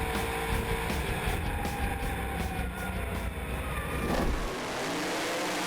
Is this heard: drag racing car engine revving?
yes